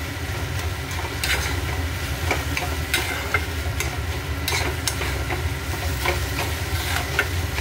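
Mung dal mixture for a sweet is stirred continuously in a pan. A soft, even scraping and faint sizzle runs throughout, with occasional light knocks of the spoon against the pan and no voices.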